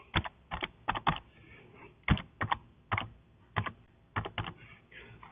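Rapid bursts of keystrokes on a computer keyboard while entering text in Dreamweaver, clustered clicks in quick runs separated by brief pauses, close and clear with no talking.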